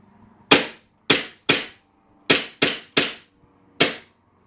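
A KWC M1911 CO2 blowback airsoft pistol dry-fires with no BBs loaded, giving seven sharp, loud clacks of the cycling slide in an uneven rhythm, with quiet gaps between them.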